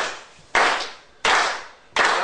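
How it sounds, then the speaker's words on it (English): A group claps in unison to a steady beat during a music workshop, producing three loud, sharp, evenly spaced claps at a moderate pace with nothing else audible. "we're just going to start by clapping our hands together and get a beat going"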